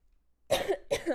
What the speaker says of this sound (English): I'm still got a little cough